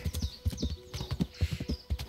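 Horse hooves clip-clopping along a forest path in the medieval game Kingdom Come: Deliverance, a steady, fairly close rhythm of soft hoof knocks at a walking pace, heard alone at modest volume.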